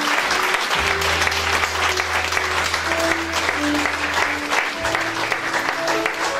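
A church congregation applauds loudly and continuously, sustained clapping filling the room with some voices and tones mixed in.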